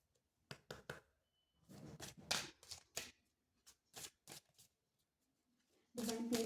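Tarot cards are shuffled close by in quick riffling bursts, a soft papery flutter that comes and goes in short clusters with pauses between.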